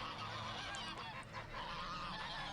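Loud, continuous honking from a flock of greylag geese, overlapping calls filling the air with a steady noisy background.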